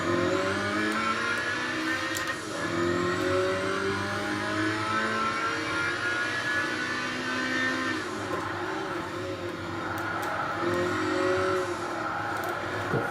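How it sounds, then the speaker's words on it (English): A car engine revving in neutral in Gran Turismo 5, a steady mid-pitched drone that rises and falls with the throttle, continuous and up close with no talking. "Can you go into neutral and rev it up now?"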